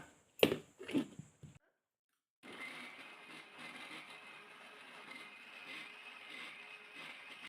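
A few sharp knocks, a short silence, then a mixer grinder blending banana juice starts up and whirs steadily and continuously until the end.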